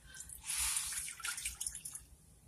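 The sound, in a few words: water poured into cooking pot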